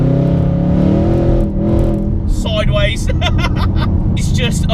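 A modified Roush supercharged Ford Mustang GT with a 5.0 V8 and six-speed manual gearbox idles and revs with a deep, steady, close rumble, while voices talk over it for the second half.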